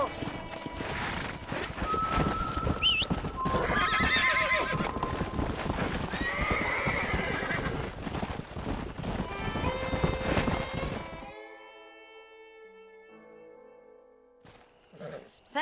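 Horses in the Red Dead Redemption game clop about and whinny repeatedly, hooves and neighs loud and close over a busy ranch ambience before dropping into near silence with faint tones.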